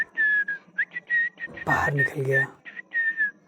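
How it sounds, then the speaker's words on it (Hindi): Someone whistles a light tune in short, clear phrases that run through the whole stretch, with a brief spoken line cutting in midway. "सीटी बजाते हुए"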